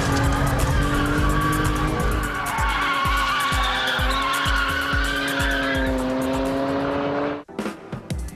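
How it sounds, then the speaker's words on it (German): Hartge-tuned BMW 3 Series Compact drifting hard with its tires squealing loudly and steadily over a strained engine note for about seven seconds, then cutting off abruptly. "In Kurven eher untersteuernd ausgelegt, mutiert der Hartke bei ausgiebiger Gaspedalmassage selbst im dritten Gang zur driftenden Giftspritze."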